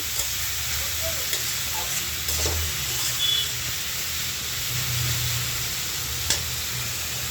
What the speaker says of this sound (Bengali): এখানে রুটি ভাজি করে নিতেছি রুটি দিয়ে খাওয়ার জন্য।